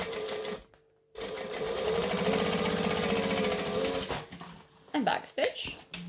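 Sewing machine top stitching a bag seam with a 1/8 inch allowance, running in a steady close whir for several seconds after a brief pause, then stopping as a voice talks over it.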